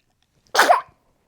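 A single sharp sneeze bursts out close and loud, then silence.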